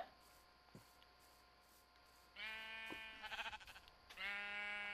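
Video game sheep bleat in a farm setting, a few wavering calls rising over a quiet background hum, with a faint click early on; the bleats come close together in the second half, fairly clear and near.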